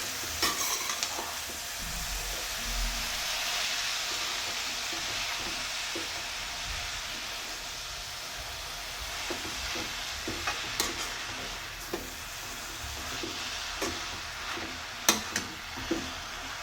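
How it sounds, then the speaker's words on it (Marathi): Wild foraged vegetables stir-fried in a pan over a low gas flame give a steady, soft sizzle, broken by occasional light scrapes and clicks of a spatula toward the end. "तर सर्व यात भाजी आपण टाकून घेऊया. मस्त आता परतून घ्यायचं आहे."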